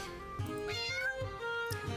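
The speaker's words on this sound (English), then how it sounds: "A loud meow makes you turn your head." A tabby cat meows in a story-driven video game, a drawn-out harmonic cry over quiet game music with a soft rhythmic beat beneath it.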